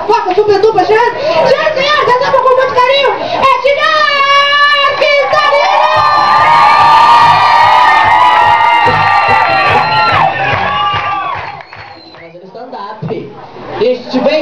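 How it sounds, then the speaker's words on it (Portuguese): Comedy show audience at a stand-up event cheering, whooping and shouting loudly and continuously, a dense roar of voices with high yells rising over the crowd, swelling in the middle and easing near the end. "os homens gritam como se fosse a Angelina Jolie pegando peitinho, e as mulheres gritem como se fosse um cartão de crédito sem limite"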